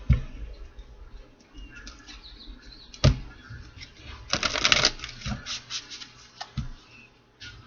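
A tarot deck shuffled by hand, a sharp snap followed by a longer riffling burst and a few softer flicks, near and clear, without speech.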